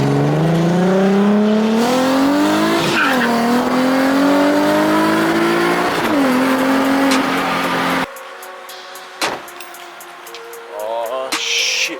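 Nissan 370Z fitted with an ISR exhaust accelerating hard, a loud rising engine drone climbing steadily through gear changes for about eight seconds, then cutting off to quieter cabin noise with brief clicks and short voices.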